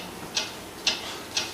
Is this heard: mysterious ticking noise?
yes